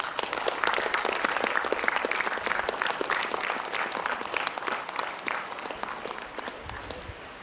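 An audience of students breaks into a round of applause at a welcome ceremony for a career counselling programme, dense clapping that stays strong and slowly thins toward the end.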